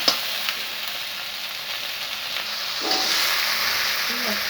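Tomatoes go into a pan of sizzling bhindi and onion, giving a steady, close hiss of frying that swells slightly partway through and continues alone without any voices.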